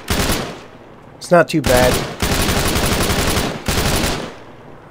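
Rifle rounds fired in the Arma 3 video game, on the Tanoa map, sound as loud sustained automatic bursts separated by short gaps, with a brief clattering mechanical sound partway through and someone speaking briefly over them.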